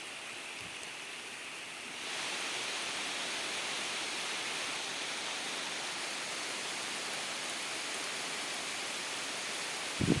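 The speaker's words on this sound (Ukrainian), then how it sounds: "Який дощик так атмосферно на вулиці." Steady outdoor rain on an August day of mushroom picking, a dense even hiss that grows heavier after a couple of seconds and then holds constant, with no voices.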